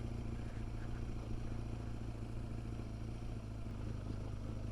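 A BMW GS 1200 motorcycle engine drones steadily and fairly loud while riding off-road through frosty woods, with a constant low rumble and light mechanical clatter.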